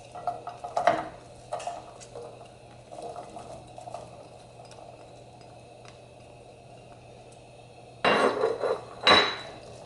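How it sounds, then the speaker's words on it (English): Onions go into three tablespoons of hot oil in a pot over medium-high heat. A few metallic clanks and stirring knocks come first, then a loud burst of sizzling near the end. "and now I'm going to add in the onions."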